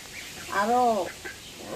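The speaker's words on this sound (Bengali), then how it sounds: "হাঁসগুলো দেখতে দেখতে অনেক বড় হয়ে গেল" A single nasal call from a flock of grown ducks, one drawn-out harmonic quack up close, with fainter honks and background murmur around it.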